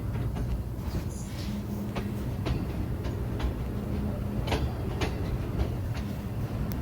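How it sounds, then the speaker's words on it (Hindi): Awam Express train drawing near on the Rawalpindi to Peshawar line, a steady broad rumble with sharp wheel clicks and knocks over the track, close and continuous throughout. "हालांकि ट्रेन इनके बिल्कुल करीब पहुंच चुकी है"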